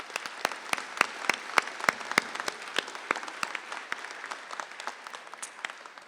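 Applause from an audience at a field house dedication ceremony, with sharp, distinct claps standing out above a steady wash of clapping that tapers off toward the end.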